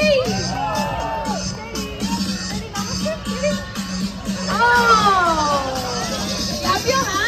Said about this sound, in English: Come on, everyone, make some noise for Teddy.